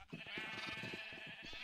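Sheep bleat in Minecraft, a close, steady, wavering bleat that carries on for most of the moment at a moderate level with no talking.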